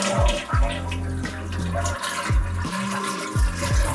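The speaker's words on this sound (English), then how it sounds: "go ahead and flush the toilet" A toilet is flushed to drain its tank after the supply valve has been shut off. The rushing, gurgling water carries on loudly, with repeated swirling surges and glugs.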